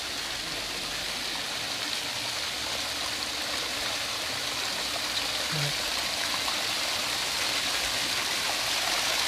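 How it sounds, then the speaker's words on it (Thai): Natural spring water flows out of a hillside year-round, a steady broadband rushing and trickling that stays constant and close throughout with no other sounds. "น้ำซับไหลทั้งปี มาจากเขาธรรมชาติ"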